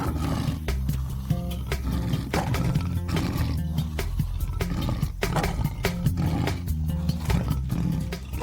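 A lion growls low and rumbling in a sustained warning with teeth bared, the deep growl continuous and close for the whole stretch, with pulsing breaths running through it.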